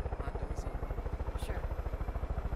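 A helicopter in Far Cry 5 thrums with fast, steady rotor chop, loud and close, its even low pulsing beat running throughout under faint game sounds.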